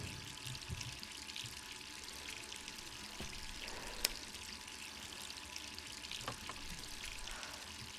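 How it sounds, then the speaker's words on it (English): Water runs steadily from a kitchen faucet in the Resident Evil 3 video game, a constant soft splashing stream with a few faint clicks and taps over it, no talking. "Leave the faucet on all the time."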